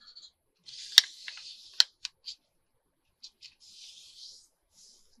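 Scissors trimming folded fabric pockets: a few quick, close snips and crisp blade clicks with short pauses between them, over near silence.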